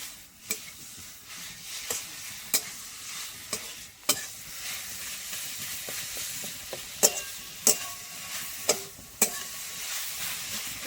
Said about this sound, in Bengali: নারকেলের পাকটা হতে থাক।